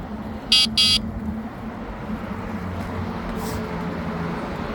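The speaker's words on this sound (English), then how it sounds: "I'll use my little beep right, nobody hear it." Two quick electronic beeps from the horn of a Freesky Alaska e-bike, high-pitched and buzzy, sound early on over steady riding noise and wind rumble on a trail.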